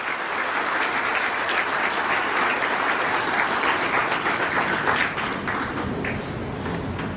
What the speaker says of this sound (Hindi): तो इस बार जोरदार तालियां हो जाए।